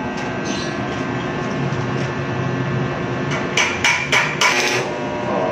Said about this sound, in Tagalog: Kita naman ninyo, martilyo yung ginagamit natin